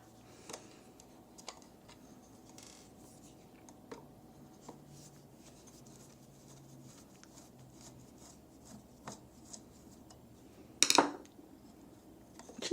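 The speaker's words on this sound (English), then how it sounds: "So just remove the screws here" Small scraping, rubbing and clicking sounds as screws are removed from the battery cover of a Sideman SM-1 portable guitar amp, quiet and close, scattered irregularly, with a louder clattering handling noise near the end.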